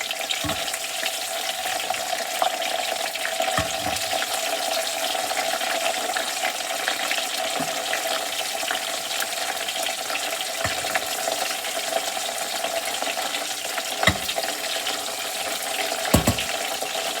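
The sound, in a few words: waffle fries frying in hot oil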